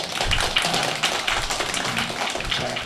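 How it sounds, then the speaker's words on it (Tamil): A crowd claps hands in a brief, uneven burst of overlapping claps, moderately loud and close, without speech. "கையெல்லாம் நல்லா தட்டுறாங்க, நல்லா தட்டுறாங்க"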